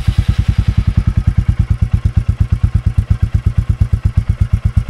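A 2024 Royal Enfield Classic 350 motorcycle engine idles steadily, its rapid, even thumping pulses close and loud throughout with no one speaking.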